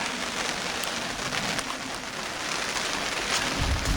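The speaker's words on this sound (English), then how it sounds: "obviously it's raining" Steady rain hisses down continuously on a garden allotment, dense and fairly loud, pattering on surfaces nearby with a low rumble near the end and no voices.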